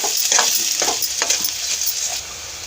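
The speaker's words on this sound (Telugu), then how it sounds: "ఈ చిన్న చిన్న ముక్కలు ఇవి కూడా వేసి మసాలాలో మగ్గనిద్దాం." Small tomato pieces cook in masala paste in a pan for capsicum masala curry, giving a steady close sizzle with a few soft stirring scrapes, with no talking.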